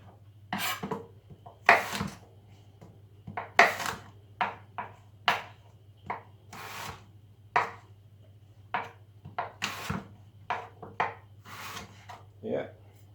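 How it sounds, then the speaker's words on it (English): Sharp knife strikes chopping a green apple on a wooden board, irregular bursts of quick cuts against a steady low hum, close and fairly loud. "just chop them up as fine as I can and just drop them in"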